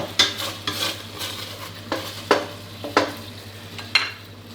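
Coconut cream sizzles in a pan as it splits into oil for a Thai chicken and pickled bamboo shoot curry, a steady low frying hiss broken by several clinks and scrapes of a utensil stirring against the pan, with no talking.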